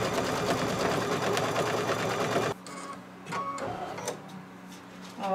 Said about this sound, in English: this is going to be the tack down for the fabric to the stabilizer to keep it in place.